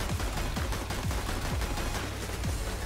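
Rapid gunfire from Counter-Strike: Global Offensive, a steady run of sharp shots over a busy game mix, with no one talking.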